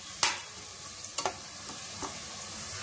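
Ingredients frying in a pan while being stirred for a Hyderabadi khichdi and khatta dish, with a steady soft sizzle broken by three or four sharp scrapes of a spoon, close and without talk.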